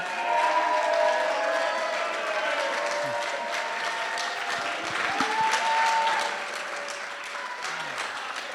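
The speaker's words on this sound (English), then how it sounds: "go ahead and cheer for them" Audience at a camp closing ceremony bursts into sustained applause with scattered cheers and whoops, steady and dense for most of the stretch before easing slightly near the end.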